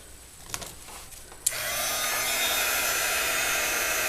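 A heat tool switches on with a click partway through and then blows a steady loud whooshing hiss while drying lightly spritzed, inked craft pieces; a few faint taps come before it.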